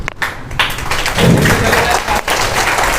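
An audience at a school toppers' award program applauds loudly, dense continuous clapping from a crowd filling the room, with a speaker's voice briefly heard over it.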